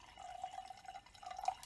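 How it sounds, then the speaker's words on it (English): Wine being poured into a glass, a soft steady trickle of liquid with a faintly rising fill tone, quiet and close, with no voices. "I'm going to pour some wine"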